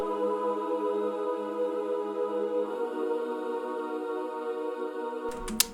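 Soft synthesized choir pads from Omnisphere, for a trap beat, drifting through two long sustained chords at a quiet, even level, ending with a short burst of noise.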